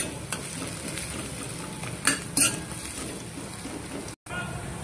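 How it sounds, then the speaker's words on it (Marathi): Grated ginger, onion and green chillies frying in a pan while being stirred, a steady close sizzle with several louder scraping strokes and a brief dropout near the end; a voice speaks faintly under it. "मिक्स करायचं याला चांगलं।"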